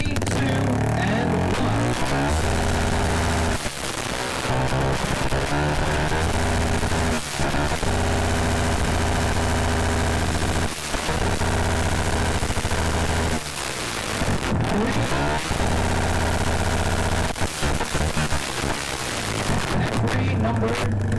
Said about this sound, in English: That's all for the loudest exhaust.